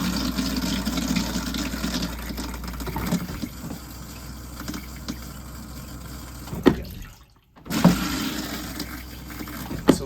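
An RV toilet flushes during winterizing, giving a steady rush of water that runs for several seconds, briefly cuts out, then resumes, close and fairly loud.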